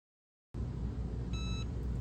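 After a moment of silence, a low steady hum starts, and a single short electronic beep sounds over it.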